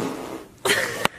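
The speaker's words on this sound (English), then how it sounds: "did you just fart?" A short, breathy fart bursts out close by after a quiet moment, ending with a sharp little pop.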